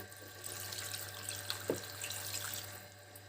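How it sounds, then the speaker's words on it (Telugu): Two glasses of water pour into a cooker of washed leafy greens, dal and turmeric for an Andhra-style leafy dal curry: a soft, close splash and trickle with a brief louder gush near the middle, over a low kitchen hum. "చూడండి రెండు గ్లాసులు వాటర్ పోస్తాను"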